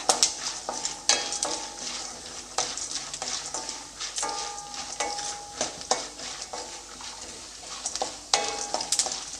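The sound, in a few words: peanuts and chana dal frying in a pan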